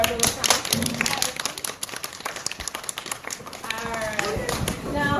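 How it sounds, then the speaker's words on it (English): Applause for children at a farm-to-table fairground demonstration: a dense, steady patter of clapping from a nearby crowd lasting several seconds, with voices talking underneath. "let's give a big round of applause to our little scientists"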